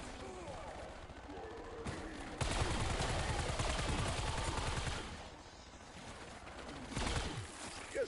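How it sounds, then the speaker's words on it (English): A sentry turret in a video game fires a sustained burst of rapid shots, then briefly fires again after a pause, with scattered lighter game sounds between the volleys. "Deploying sentry turret"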